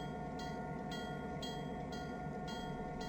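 A locomotive bell in the Trainz Simulator 3 train game rings steadily, about twice a second, over a continuous low engine and rail rumble.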